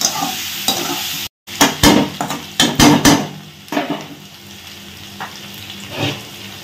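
Potatoes and eggplant are stirred in a frying pan, a spoon scraping and clattering in irregular bursts over a soft, steady sizzle, close up with no talking.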